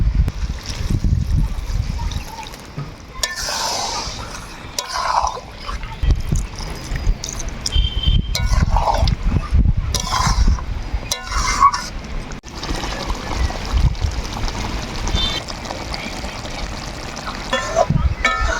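Water is poured into a chicken curry cooking with taro leaves, giving short splashing trickles between stretches of talk.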